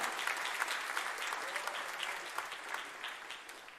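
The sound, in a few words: congregation applause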